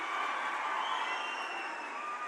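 Dense, steady applause and cheering from a large audience at a government ceremony handing out job appointment letters, sustained without pause, with crowd noise and a few shouts mixed in.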